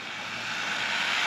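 A 1/16 scale four-wheel-drive brushless RC rally car runs at full throttle, its high, airy whine rising steadily over a short moment.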